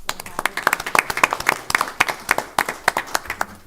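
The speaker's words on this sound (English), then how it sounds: "can we give another round of applause" A modest group at a city council meeting claps, the individual hand claps sharp and distinct in an uneven, fairly sparse patter rather than a full roar.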